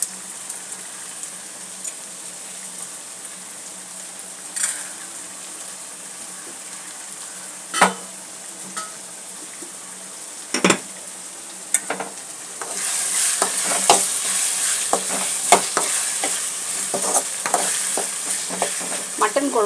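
Tomatoes sauté in a pan for curry: a soft low sizzle with occasional spoon scrapes, then a louder, busier frying hiss with frequent stirring clatter in the second half.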